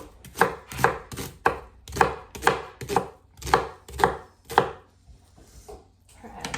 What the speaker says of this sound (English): So we're gonna chop these up.